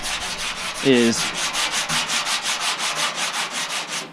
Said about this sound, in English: we actually took a little bit of that dent out by sanding the primer and leveling it all out